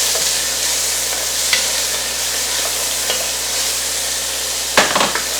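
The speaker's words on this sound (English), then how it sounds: "with the onions, green chili, garlic, and cilantro all together. Fry it a little bit." Onions, green chili, garlic and cilantro fry together in a pot for Mexican cheese soup, giving a steady, dense sizzle. A few soft utensil knocks sound near the end.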